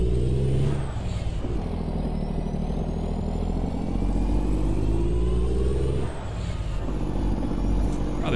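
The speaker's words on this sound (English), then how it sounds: "Really puts this freaking engine to the test for sure." A truck engine in American Truck Simulator drones loud and steady as it climbs through a banked curve, its pitch rising then dropping at two gear shifts.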